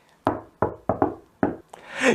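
Five sharp knocks on a door, uneven and close, with a rising hiss of noise swelling at the end.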